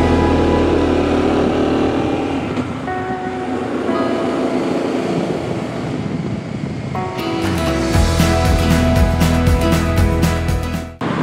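Honda motorcycle engine on a rough Sardinian road, held under 3500 rpm with a failing alternator, droning steadily and loudly throughout; the tone brightens and grows busier toward the end as revs and road noise shift.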